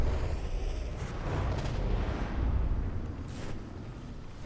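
Missile strikes slam into a ship in a battleship naval combat game, a run of muffled, rumbling booms overlapping one another at moderate distance with no talk over them.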